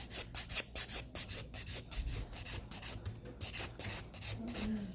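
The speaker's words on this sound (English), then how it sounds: "And then I'm just gonna lightly file it." A nail file lightly rasping over a hard gel nail, a soft, close, steady back-and-forth scratching in quick repeated strokes with no talk.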